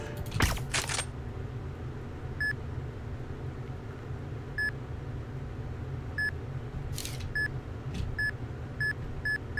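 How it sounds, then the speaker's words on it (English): Warning beeps in the sniper video game Geometric Sniper: Blood in Paris, short sharp electronic bleeps repeating at a quickening pace over a low background hum, with a few clicks between them. "That beeping is so terrifying."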